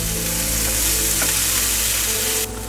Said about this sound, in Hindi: ये फ्रोजन मटर है, आप इसको भी पका लीजिए